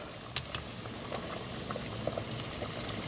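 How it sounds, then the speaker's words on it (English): Water boiling in a big pot while green vegetables such as thin asparagus are par-cooked, a steady close bubbling hiss with a few small pops and no talking. "See, the water's boiling."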